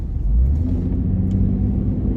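An Acura drives slowly through a new-construction neighborhood in Celina, Texas, heard from inside as a steady low engine rumble and road hum.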